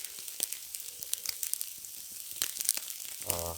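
A steak smeared with butter and Dollar Tree steak seasoning crackles and sizzles over a wilderness campfire, with close, uneven sharp pops and hissing that rises into a louder burst near the end and no talking.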